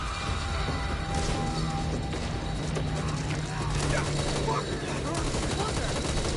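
Shotgun blasts and other gunfire in a video game crackle through dense, continuous battle noise, with speech mixed in and no single shot standing clearly apart.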